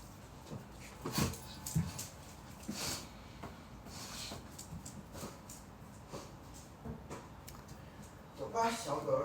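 A dog whimpers and gives small yips in short bursts, close by and fairly quiet, with a person talking in the background.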